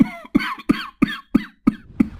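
A drunken man in a cartoon coughs loudly seven times in a steady rhythm of harsh, hacking bursts, each separated by a short pause and growing slightly weaker toward the end.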